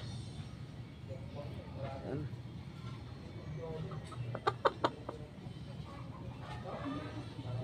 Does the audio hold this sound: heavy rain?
no